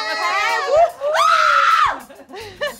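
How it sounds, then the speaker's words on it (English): A group of women shrieking loudly together in a sustained, high-pitched scream that swells and then breaks off. "Just the ladies and scream"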